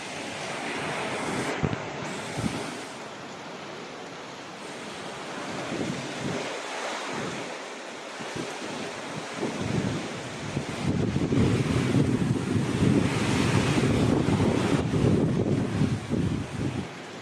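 Strong typhoon winds roar steadily through Lipa, Batangas during Typhoon Uwan at night, a loud continuous rush that gusts harder in the second half, with no voices.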